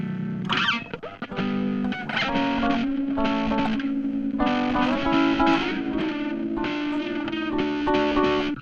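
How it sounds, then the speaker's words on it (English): Heavily distorted synth bass in a dark drum and bass production, a gritty, buzzing sustained tone with rhythmic note changes and layered harmonic sound, loud and continuous after a brief sweep at the start. "What's this sound like with distortion?"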